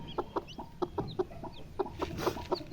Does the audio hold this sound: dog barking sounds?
no